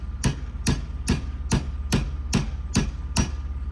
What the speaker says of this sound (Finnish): Haetaanpa vähän vasaria ja naputetaan sitä.